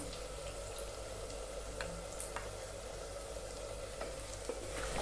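Onions frying in oil with peanut masala powder being stirred in give a steady, low sizzle and soft spoon scraping, fairly close, with no talk.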